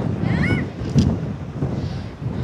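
Strong wind at Vivekananda Rock, Kanyakumari, where three seas meet, buffeting the microphone in a continuous low roar, with a brief faint whistle-like tone; no talking.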